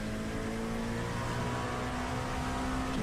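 Race car engine in the iRacing sim at Spa, held at a steady droning whir with traction control cutting in, giving a muffled, bogged-down tone that runs continuously and fairly loud.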